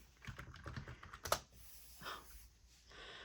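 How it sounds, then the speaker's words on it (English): Keys clatter on a computer keyboard in a quick burst of close typing, followed by a few sparser taps and a short lull. "Let's just type video in."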